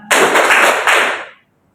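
A classroom of students claps together in a short, dense burst of rapid hand claps lasting about a second, with a brief surge partway through before it stops abruptly.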